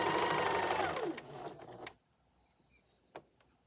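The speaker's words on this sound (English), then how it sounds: "we're going to do a nice 1/4 inch seam allowance all around." A sewing machine runs a quarter-inch seam while piecing a memory bear, its close, steady whir lasting about two seconds before slowing and stopping, followed by near silence and one faint click.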